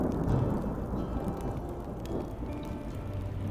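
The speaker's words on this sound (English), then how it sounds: "I didn't know it would rain." Steady rain pours down in the video game Minecraft Story Mode, with a dense, even hiss and low rumbling thunder underneath, constant throughout with no voices.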